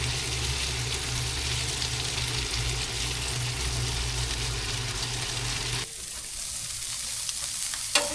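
Food fries in a pan with a steady, loud sizzle under a low hum, close by, then the sound drops off sharply near the end to a quieter hiss, no talking.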